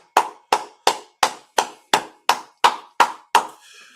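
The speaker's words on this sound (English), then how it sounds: "Let's clap it up for the Most High in Christ" Ten sharp hand claps in a steady, evenly spaced rhythm, fairly close and loud, each with a quick decay; the claps are that of a group at a religious teaching session in Harlem, New York, ending in a faint low murmur.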